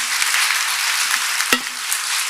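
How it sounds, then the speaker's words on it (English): Applause from an audience at the close of a community research panel, a steady wash of many hands clapping with no individual claps standing out, holding fairly level through the moment with one sharper knock partway. "please give them a round of applause"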